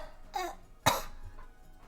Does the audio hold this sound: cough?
yes